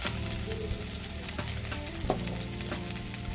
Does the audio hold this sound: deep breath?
no